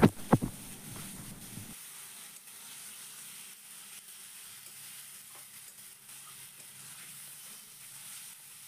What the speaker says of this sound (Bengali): এখন আমি মশলাটাকে কিছুক্ষণের জন্য নাড়াচাড়া করে নেব।